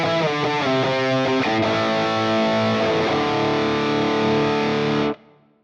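Electric guitar through a Fractal JP2C+ amp model on the red channel with a 12 dB input boost: heavily distorted picked notes that settle into sustained ringing chords, loud and close, then cut off abruptly near the end.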